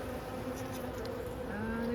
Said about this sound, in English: the bees are definitely cleaning it up